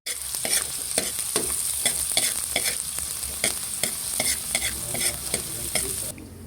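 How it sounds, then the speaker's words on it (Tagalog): Garlic and onion sizzle in a hot pan as they are sautéed for pork adobo, with steady loud frying hiss and repeated scraping stirs of a utensil throughout, no talking. "Ako'y magigisa na ng bawang at sibuyas."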